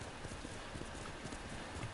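Horse hooves clip-clop in a steady, close rhythm in the video game Ghost of Tsushima, alone and without talk.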